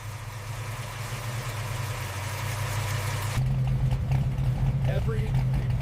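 A restored 1967 Shelby GT500 engine idling with a steady low rumble, growing louder and deeper partway through as it runs on close by.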